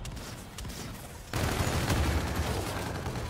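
Dense, continuous gunfire in a Defender-mode shooter video game, a steady rattle of rapid shots that grows louder partway through, with no talking.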